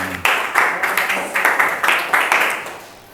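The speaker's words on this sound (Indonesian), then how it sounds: "Tepuk tangan buat teman kita." Small group of listeners at a teaching session clapping in a brief round, a series of bursts rising and falling over a few seconds before fading out.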